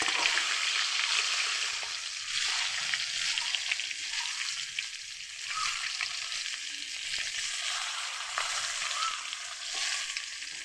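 Fish frying in a pan makes a loud, continuous sizzling hiss with crackling spatters that carries steadily from start to end, close up and without voices.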